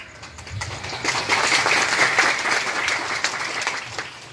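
An audience at an Indonesian Islamic sermon breaks into applause, a dense patter of many hands clapping that swells and holds for several seconds before thinning out slightly.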